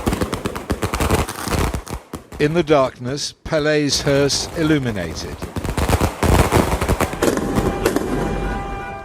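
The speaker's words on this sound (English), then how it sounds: "Fireworks to celebrate a great life and to mark his homecoming." Fireworks go off at Pelé's homecoming in Santos, a crowded night celebration, with sharp crackling bursts and rapid popping volleys heard under a narrator's voice.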